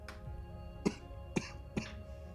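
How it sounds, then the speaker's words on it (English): A sick person coughs, three short throaty bursts spaced about half a second apart after an initial throat clearing, close and quiet with no talk. "You're gonna hear me cough"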